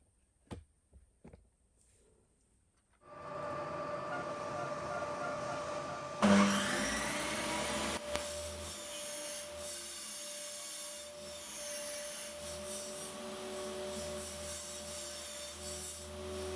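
Vacuum hose pulling in sawdust thrown off a saw blade while a wooden ball is shaped without a lathe; a quiet start with a few knocks, then a steady loud whine and airy roar kicks in and runs continuously with slight surges.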